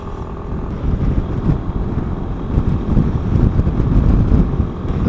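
Suzuki Burgman 400 scooter from 2015, a 400cc step-through, rides along as its engine pulls steadily under twisted throttle, a continuous loud drone mixed with heavy wind rush.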